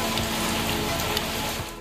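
Steady, dense rain pours down in Khanpur, a continuous close hiss that fills the whole moment without any voices.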